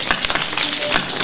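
Hands rubbing, tapping and drumming to imitate a crackling fire during a storytelling activity, producing a dense run of soft, irregular clicks and pops that continue steadily throughout.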